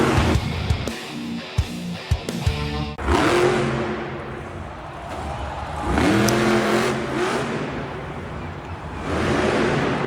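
A Megalodon monster truck drives in a Monster Jam arena: a few sharp knocks open, then a loud, close engine roar surges into hard revs, swelling again midway and staying steady and powerful to the end.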